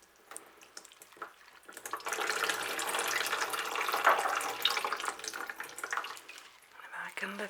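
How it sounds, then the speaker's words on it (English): Water pours steadily for several seconds through a potted Phalaenopsis orchid in dry inorganic media, a rushing, splashing flow into loose material, with a few drips near the end. "just gently pour that water through"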